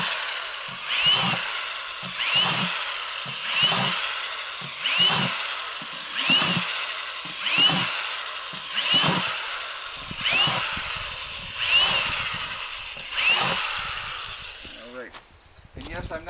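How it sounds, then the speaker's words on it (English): A power drill bores a series of holes in the bottom of a plastic bucket: about ten evenly spaced, whining bursts that rise and fall in a steady rhythm, close and moderately loud, with a bit of handling noise at the end. "I just drilled a bunch of holes in the bottom of this"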